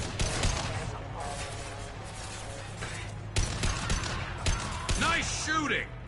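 Rapid gunfire bursts from a Mass Effect Legendary Edition firefight, steady and dense throughout with sharper volleys near the middle and end, mixed with in-game voices and combat effects.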